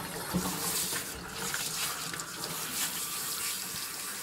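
Tap water runs steadily into a sink or tub while a raccoon is being bathed, a continuous splashing hiss that fills the whole stretch at moderate loudness with no speech over it.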